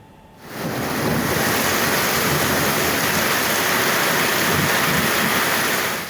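Floodwater from a flash flood in Bandung, West Java roars loud and continuous in a dense, broadband rush after a brief quieter start.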